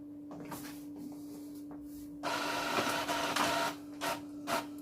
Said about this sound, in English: So I'm just printing 2 pages of plain text.